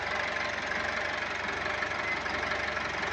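Foton Traveller engine idling, a steady close rumbling drone with an even rapid knocking pulse, continuous and unchanging throughout with no talk.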